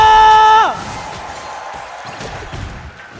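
A crowd at an esports playoff match cheers and applauds loudly and steadily just after a brief electronic tone sweeps downward, the broad roar of the audience filling the rest of the moment.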